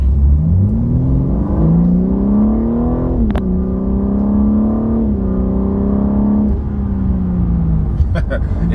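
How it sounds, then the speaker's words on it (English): A BMW G80 M3 accelerates from about 15 mph to 60 mph, its engine note climbing through quick gear changes up to fourth. The revs rise loud and close, with brief dips at each shift. "Slow down about 15 miles per hour, accelerate to 60, and let's see how that feels and how that looks."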